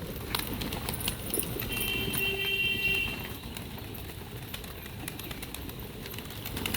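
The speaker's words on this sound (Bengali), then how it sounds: "এই সব পায়রা" Pigeons gathered at a rooftop loft make faint rustling and wing flaps, with scattered patters and light background noise throughout.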